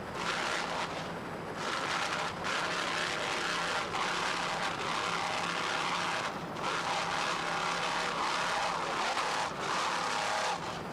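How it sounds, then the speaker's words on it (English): Twin 925-horsepower Cobra Power inboard engines drive an offshore racing boat at the 1994 Key West Superboat Grand Prix, producing a continuous loud, dense roar that swells and dips slightly throughout. "These two 925 horsepower Cobra Power inboards sound excellent."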